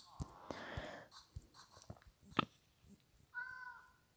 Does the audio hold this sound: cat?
yes